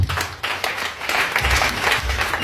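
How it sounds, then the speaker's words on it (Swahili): A church congregation claps for the children's group, a brief burst of many hands clapping together at close range, dense and fairly loud. "Wapigeni makofi wa kikundi."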